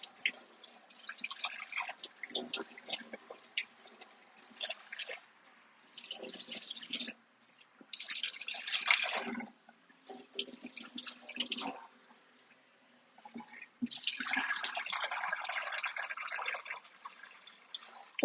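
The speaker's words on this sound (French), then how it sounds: "Un peu d'eau froide." Cold water pours from a tap into a container in several bursts, splashing and trickling with short pauses between, close and fairly quiet.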